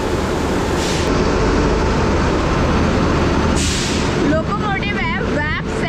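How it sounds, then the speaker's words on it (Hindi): A steady, loud rumble of a WAP 7 locomotive hauling a first AC double decker train out of Chennai Central, with hissing bursts above the rolling noise, and someone speaking near the end. "लोकोमोटिव है WAP 7 इरोड का"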